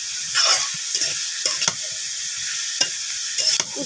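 Sliced bitter gourd frying in a pan with salt, steady oil sizzle under repeated scraping stirs of a spatula against the pan, close and continuous.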